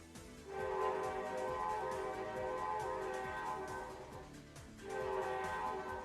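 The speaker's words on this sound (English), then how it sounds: "That was a train horn coming from my laptop speaker." A loud, sustained multi-tone train horn from model railway sound decoder software blares steadily, dips briefly, then sounds again, with a slightly electronic quality, played through a laptop speaker.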